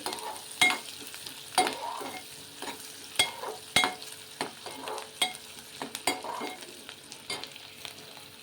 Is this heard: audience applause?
no